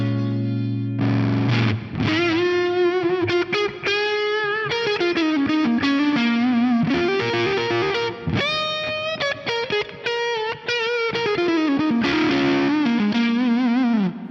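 Electric guitar through a face fuzz pedal into a clean amp, playing a sustained, thick, saturated lead line with bends and a few rhythmic stabs, steady and prominent throughout.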